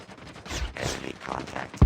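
HS0405 shotgun fire in the game COD Mobile: a run of muffled bursts with one sharp, loud blast at the very end.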